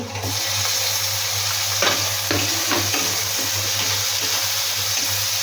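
Tomato dropped into a hot pan fries with a steady, close sizzle, broken by a few brief stirring scrapes and clatters; no one speaks.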